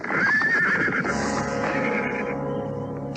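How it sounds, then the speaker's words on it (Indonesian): A horse pulling a horse-drawn carriage on a dark road lets out a loud, close whinny as the carriage halts, followed by lower snorting and rumbling amid dramatic background music. "Mendadak Ki Tongkot menghentikan kereta kudanya"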